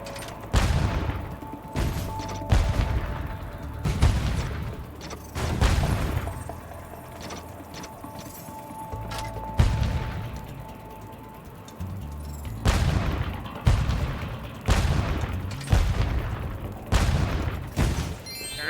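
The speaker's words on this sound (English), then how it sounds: "Now, if we go to this cannon." In-game cannon from Spyro Reignited Trilogy fires repeatedly, giving a string of loud booms and crashing impacts every second or two, with mechanical clatter between shots.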